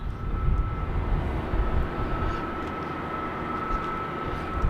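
Air New Zealand airliner departing Sydney Airport, a steady broad engine roar with a faint constant whine, sustained and fairly distant throughout.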